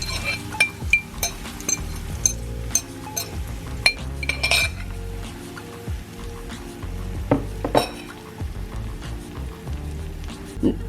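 Egg being mixed into a sizzling pan with a utensil, with steady frying hiss under repeated close clinks and scrapes of metal on the pan.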